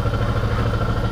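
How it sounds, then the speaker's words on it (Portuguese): Motorcycle engine braking in first gear on a dirt road, a steady close mid-low engine drone with clattery texture, constant and loud, no voices. "Eu tô só no freio motor, na primeira marcha."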